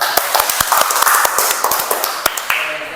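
Students in a classroom clap for a classmate, a quick loose run of sharp, close hand claps of uneven rhythm that trails off into a few scattered final claps.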